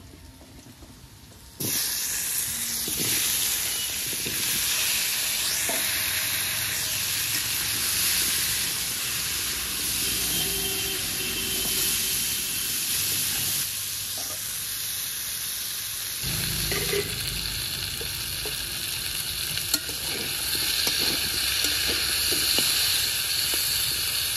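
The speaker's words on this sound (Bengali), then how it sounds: "এবার কেটে রাখা কুমড়ো আর আলু একসঙ্গেই ভেজে নেব" Pumpkin and potatoes frying together in a pan for a Bengali jiyol fish curry, giving a steady broadband hiss and sizzle that runs close and continuous, with occasional faint stirring clicks and no talk.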